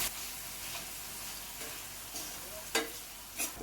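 Chopped onion and tomato sizzle in a pan for egg bhurji, a steady soft frying hiss with occasional sharper crackles and stirring scrapes near the end, fairly quiet, with no talking.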